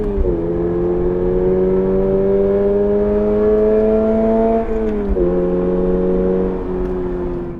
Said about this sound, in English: Now that's the sound of a Boxer engine, a flat 4.